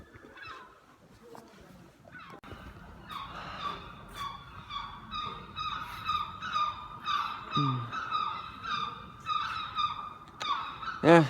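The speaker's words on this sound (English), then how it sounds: "I can hear so many seagulls right now." Gulls call repeatedly along the coast of Cork, Ireland, a run of rhythmic squawks growing louder and closer over faint street noise and distant traffic.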